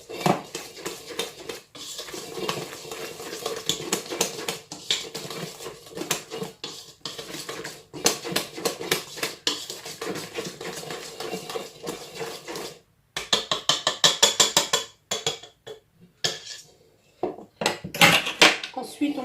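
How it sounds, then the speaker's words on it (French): A whisk beats ingredients in a bowl for brioche dough, making quick rhythmic metallic clatters that come in bursts with brief pauses, close and clear. "Et on mélange d'abord au fouet."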